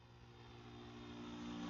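A FlyWing FW450 V3 RC helicopter hovers with a steady motor and rotor whine, a continuous mechanical drone that swells slightly louder toward the end, heard faintly with no voices.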